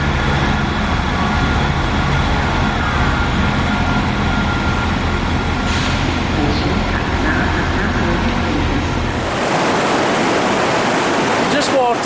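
Loud, steady rush of a river flowing through an underground tunnel beneath a railway station, a dense roar filling the space throughout, briefly shifting in tone near the end.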